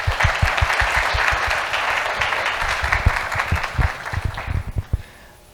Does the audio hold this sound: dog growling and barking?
no